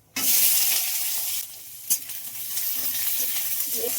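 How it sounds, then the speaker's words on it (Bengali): Nigella seeds, dried red chili and onion hit hot oil in a kadai wok with a sudden loud sizzle, then a steady frying hiss with stirring scrapes close up. No one speaks. "শাকের জন্য কড়াইতে দিয়ে দিচ্ছি একটু কালো জিরে, একটু শুকনো লঙ্কা"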